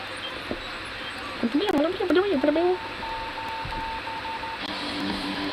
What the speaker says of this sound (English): It has some Morse code.